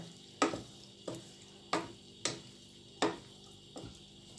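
Northern Thai pork larb being mixed and stirred in a bowl, five or six evenly spaced scraping strokes with faint wet clinks, close and quiet without talk.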